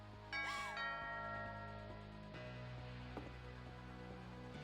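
A two-tone doorbell chime sounds once inside a video game, ringing bright and clear over a steady musical background before fading out.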